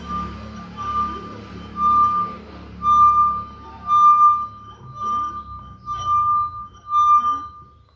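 A wet finger rubbed around the rim of a glass half filled with water sings a clear, ringing tone that swells and fades in repeated strokes, loud and alone.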